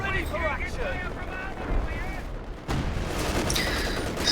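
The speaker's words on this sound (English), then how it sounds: "LFH barraging the other mortar pit" An LFH artillery barrage hitting a mortar pit in a strategy video game, distant booms and crackling explosions rumbling under a caster's voice, with a sharp louder blast midway.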